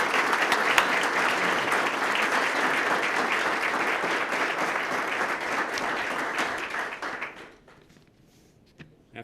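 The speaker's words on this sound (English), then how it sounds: "Let's all give him a round of applause." Audience applause at a police swearing-in and lieutenant promotion ceremony, a dense sustained burst of many hands clapping that fades out near the end, leaving a few faint taps and quiet room noise.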